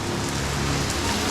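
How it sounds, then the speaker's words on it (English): Steady rain falls outdoors near a Chris Craft Stinger race boat being torn down, a dense continuous hiss of drops hitting surfaces, close and even throughout with no talking. "Sarah, it looks like it's gonna rain."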